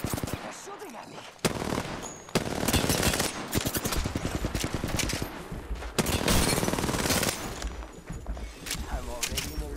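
Apex Legends gunfire, rapid automatic bursts and repeated shots that crackle loud and close across most of the stretch, mixed with game effects and a player talking over them.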